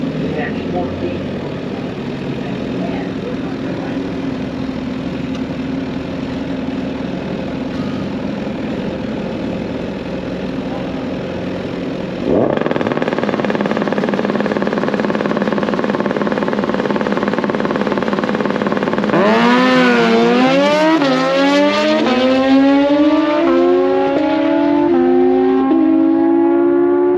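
A stock Kawasaki Ninja H2 supercharged motorcycle idles with a low steady drone, then its engine note jumps and climbs in loud repeated revs with rising whine, close by and without talk.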